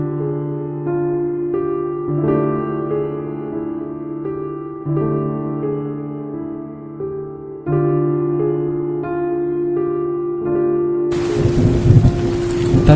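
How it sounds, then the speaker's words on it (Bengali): Soft music plays, then a sudden loud rush of storm wind and heavy rain breaks in at the end. "ঝড়ো হাওয়া দিয়ে অঝোর বৃষ্টি শুরু হলো"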